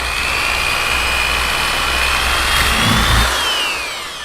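A power drill bores a hole at a pencil mark, a steady loud whine whose pitch shifts slightly as it works, close up and alone.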